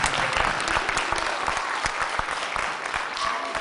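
An audience at an elementary school holiday concert with band and choir claps warmly. The applause is loud and dense, with a few faint voices underneath, and it keeps going at an even level throughout.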